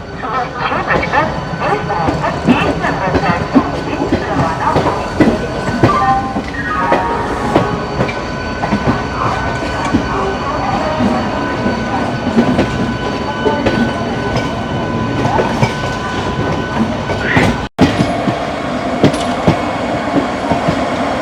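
The Black Diamond Express from Howrah rumbles steadily along the rails for a long stretch, with rhythmic clickety-clack, wheel noise and occasional squeal, heard from on board with a voice talking over it.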